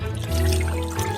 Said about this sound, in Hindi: एक कटोरा लेंगे, उसमें जेलेटिन और पानी डालेंगे।